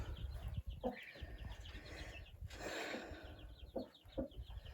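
Hens cluck and murmur softly inside a chicken coop, with short repeated calls and faint rustling heard from close by and no talk.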